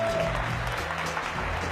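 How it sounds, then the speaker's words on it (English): Keynote audience claps for a speaker walking up to the stage, a full, steady round of applause heard close and continuous for a couple of seconds. "Please give her a round of applause"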